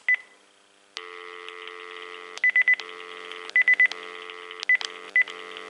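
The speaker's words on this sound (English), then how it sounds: "make sure the dial tone works on the first handset" A steady telephone dial tone hums through a Panasonic KX-TG5243 cordless phone handset, interrupted by short clusters of keypad beeps, three quick presses at a time, heard close and clear.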